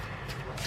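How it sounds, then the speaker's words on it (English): A tarot card deck being shuffled by hand, a soft papery riffle with two brief bursts of cards sliding against each other, close and quiet. "live shuffle your tarot."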